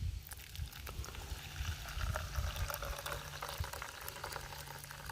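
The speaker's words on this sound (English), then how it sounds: "let's go ahead and pour this water." Water poured from a measuring cup into a mug of instant coffee powder, a steady close liquid rush with faint trickling throughout and no talking.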